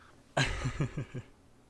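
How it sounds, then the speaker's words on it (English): A single abrupt, forceful sneeze bursts out, followed by a few short rhythmic throaty spasms that trail off quickly, fairly close and loud against a quiet room. "Hold on, I'm gonna sneeze."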